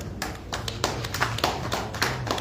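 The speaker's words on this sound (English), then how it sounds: "This a round of applause for His Excellency" A small gathering claps for a visiting dignitary at an emir's palace in Ilorin, a few close, uneven hand claps sounding in loose rhythm rather than a full crowd ovation.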